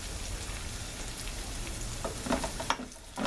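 Potatoes frying in a pan for a hearty breakfast, a dense rain-like crackle and sizzle running steadily, with a few louder spatters and stirring knocks near the end and no voices.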